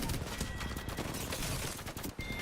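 Rapid automatic gunfire from Apex Legends fills the moment, a dense continuous burst of shots with recoil-heavy spray, loud and close throughout with a brief dip near the end.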